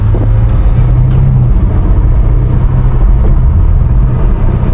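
A BMW M5 Competition's engine drones loudly and steadily as the car accelerates to merge onto a highway at night, with a deep rumble and road noise throughout.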